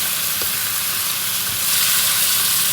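Onions sizzle steadily in a hot pan while being stirred, a continuous close frying hiss that swells louder near the end, with no talking.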